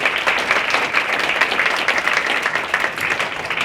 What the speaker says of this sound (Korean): 나오실 때 큰 박수 부탁드립니다.